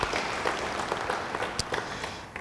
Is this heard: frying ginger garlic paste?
no